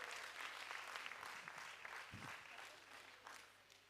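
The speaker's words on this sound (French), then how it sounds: "Est-ce qu'on peut applaudir pour tout le monde?" Festival audience applauding, a soft wash of dense clapping at a distance that stays steady and slowly fades, with a faint voice briefly underneath.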